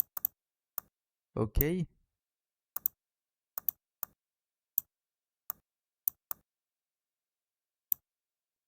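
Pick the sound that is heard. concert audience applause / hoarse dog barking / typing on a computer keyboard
typing on a computer keyboard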